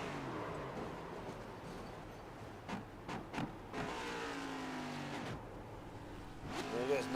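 Race cars at Talladega whine and surge faintly in the distance, their engine tones rising and falling under ongoing commentary.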